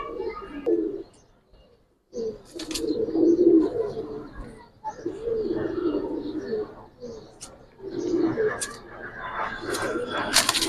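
Giribaz high flyer pigeons coo repeatedly in low, rolling bursts close by, with someone talking over and between the calls.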